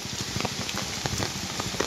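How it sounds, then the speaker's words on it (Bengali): Rain falls steadily on a waterlogged garden, a dense pattering hiss with scattered sharper drops hitting a surface nearby, and no voices. "পিছনে বৃষ্টি নামছে"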